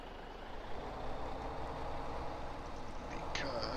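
A truck in the Farming Simulator 17 game rumbles at a steady idle, a continuous engine drone filling the short stretch, with a brief high beep near the end.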